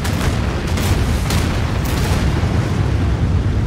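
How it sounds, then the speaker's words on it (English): A nuclear missile detonates in the strategy game Anno 2205, producing a loud, sustained, rumbling boom that fills the whole stretch without a break. "And then let's nuke this. Nuclear missile. Fire."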